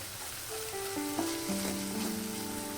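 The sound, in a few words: peanut masala frying in pan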